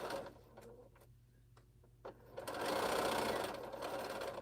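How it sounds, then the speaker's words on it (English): A sewing machine stitches the seams of a half-square-triangle Exploding Star quilt. A few soft taps come first, then a loud, steady run of stitching fills the second half. "Still got 2 seams sew up on each of these."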